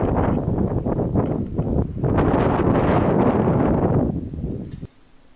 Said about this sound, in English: it was really windy, as you just heard a second ago